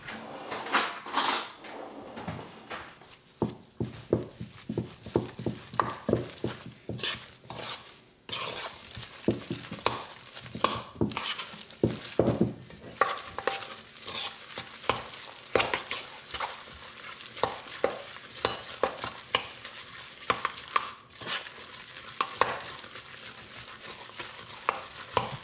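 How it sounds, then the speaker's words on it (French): A croquette mixture of turkey, potato flakes and egg is stirred in a bowl with a utensil, giving busy repeated scraping and clattering strokes that stay close and fairly loud throughout. "Et on va venir mélanger toute cette préparation."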